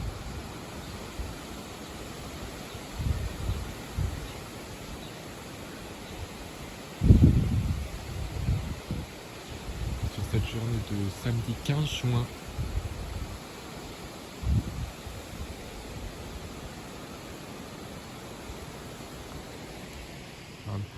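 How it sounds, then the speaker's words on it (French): A strong southwest summer wind at about 60 km/h rushes through leaves, giving a steady broadband hiss with buffeting gusts, while someone speaks briefly midway. "On a pas mal de vent aujourd'hui, hein, pour la saison."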